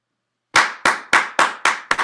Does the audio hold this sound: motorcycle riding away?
no